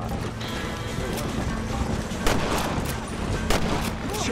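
Gunfire from the Red Dead Redemption video game on PS3: a few sharp shots ring out amid a dense, steady background of game ambience.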